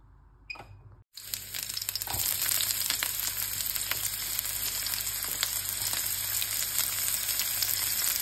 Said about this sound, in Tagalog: In a pan, we turn on the heat so to saute the ginger and onion and tomato.